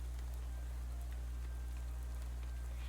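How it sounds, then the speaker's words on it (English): Rain in the Shadows over Loathing video game, a soft steady patter of raindrops under a constant low hum, faint and unbroken, no voices. "How about this rain, huh? Oh, it's raining."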